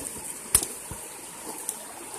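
A creek flowing over rocks, a faint steady trickle and wash with a couple of soft knocks and splashes, and no voices.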